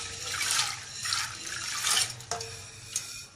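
Water runs and splashes over a mix of lentils in a cooking pot for chicken haleem, with several swelling bursts of pouring and trickling, close and fairly loud, with no talking.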